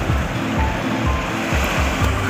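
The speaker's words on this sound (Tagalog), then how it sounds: "Sorry, pagbasag ng alon sa mga batuhan." Sea waves breaking on rocks along the shore, a steady close rushing wash with rhythmic surges and no talk.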